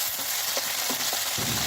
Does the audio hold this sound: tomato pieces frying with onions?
yes